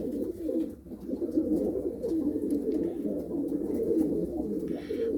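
Trophy-winning racing pigeons coo in a steady low, throaty chorus nearby, overlapping calls throbbing continuously with a brief dip early and faint rustling, no talking.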